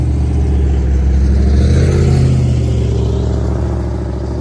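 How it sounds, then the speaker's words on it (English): A V8 car exhaust revs loud and close, a deep rumbling burble that rises and then settles back, heard alone with no talk over it. "Nice exhaust. You know, that's one of the reasons why I keep coming back to a V8."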